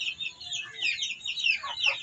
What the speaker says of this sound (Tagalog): dumarami na ang ating mga alagang manok at pabo